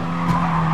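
A race car in Gran Turismo Sport brakes hard into a corner, giving a loud, close, continuous tire screech over a steady engine drone for under a second, with no speech.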